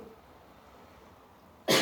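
While minced meat cooks with black pepper, a person lets out a single loud, abrupt cough at the very end, right after a near-silent stretch of faint kitchen background.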